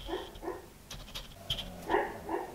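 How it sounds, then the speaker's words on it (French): A sleeping dog dreams indoors, letting out soft muffled whimpers, yips and little woofing sounds in short, close, irregular bursts. "il y a mon chien qui rêve, vous allez peut-être l'entendre"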